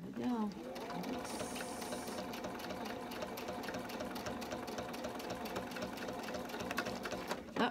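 A sewing machine stitches a hassock cover, running continuously with a fast, even mechanical clatter close by for several seconds before stopping.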